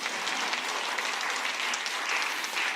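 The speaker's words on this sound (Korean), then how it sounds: "박수 쳐요." A church congregation applauds in continuous, dense clapping that holds steady at a moderate level for a few seconds.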